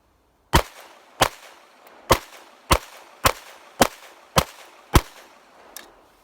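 Eight sharp, loud gunshots from a Ruger Mark IV pistol, fired at a steady pace about half a second apart, each a crisp crack with a short ringing tail, followed by a fainter metallic click.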